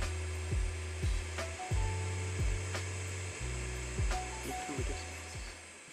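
A hot air rework station blows a steady airflow hiss while heating a chip on a Nintendo Switch board, with a repeating rhythmic pulsing hum and faint clicks over it.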